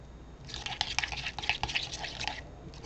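Deviled egg filling mixed by hand in a bowl after a splash of vinegar, a wet, squishy stirring with fast irregular clicks and scrapes of utensil against the dish, close and steady with no talk.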